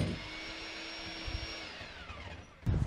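A core drill bores a 2-inch hole through a hollow concrete block foundation wall, giving a whining motor tone that slowly sags in pitch, with low grinding thumps and a louder burst at the end.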